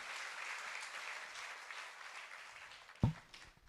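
Congregation applause in a church service, a soft, far-off wash of clapping that fades gradually before a short thump near the end.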